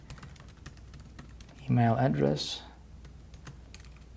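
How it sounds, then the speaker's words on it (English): Rapid clicking of keys on a computer keyboard runs steadily throughout, with a person briefly speaking over the typing in the middle. "I'm not really good at talking and typing at the same time"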